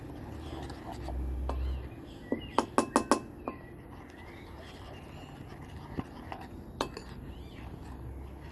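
A utensil stirs a flour and starch mixture in a bowl, producing a quick cluster of sharp clicks and taps followed by a few scattered knocks, close and fairly quiet over a steady background hum.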